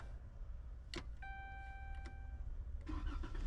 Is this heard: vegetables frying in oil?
no